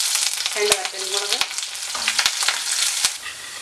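Shallots, curry leaves and dried red chillies frying in oil with popped mustard seeds for a taro stir-fry, giving a close crackling sizzle broken by sharp spatters and clinks of stirring, with no voices.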